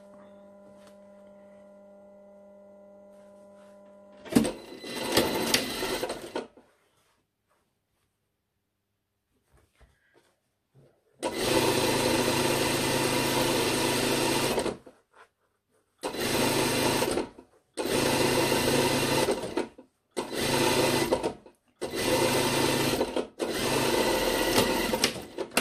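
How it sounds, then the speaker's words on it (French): Sewing machine topstitching a lined cranberry jacket, starting with one short burst, then after a pause running in a long loud stretch followed by several shorter close-up bursts separated by brief stops. "Et je refais ma surpiqûre."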